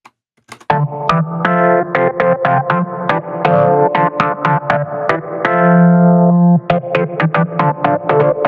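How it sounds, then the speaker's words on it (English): A Rhodes electric piano drenched in reverb plays a French house chord pattern, its reverb tail pumping under a compressor, with rhythmic percussive hits cutting through swelling sustained chords, loud and close with no talking. "As you can hear, the reverb tail is pulled up quite a lot."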